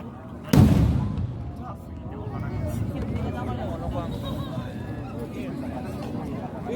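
One loud close boom opens the Onmaku fireworks festival finale in 2023, then continuous crackling bursts and distant pops follow beneath a chattering crowd.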